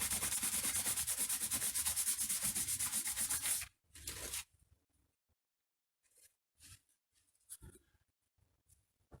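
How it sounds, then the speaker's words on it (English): A Gameboy case being buffed to remove excess material, heard as a steady, close abrasive rubbing that runs continuously for several seconds, then stops abruptly, followed by a short burst and scattered faint handling clicks and taps. "I'm just going to try and buff the excess off a bit"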